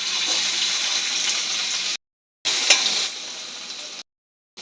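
Crushed garlic sizzles in hot oil in a large wok, a loud steady frying hiss that breaks off briefly and then resumes.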